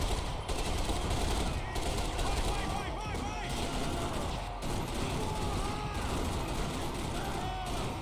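Video game gunfire rattles in dense, continuous bursts of automatic fire layered over game effects, loud throughout, with a player talking over it.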